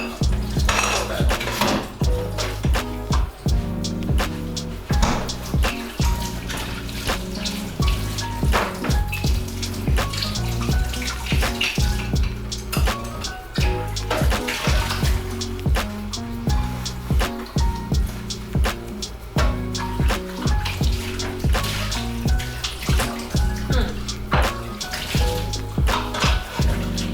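Dishes, pots and utensils clatter and knock in a sink under running tap water, washed without detergent, with continuous splashing and frequent close metallic clinks and thuds.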